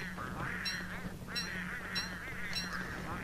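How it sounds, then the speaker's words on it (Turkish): Penguins in the Don't Starve video game give repeated loud, harsh honking calls, overlapping in a noisy flock chorus that keeps going throughout. "Penguen bu kadar gürültülü bir hayvan mı ya?"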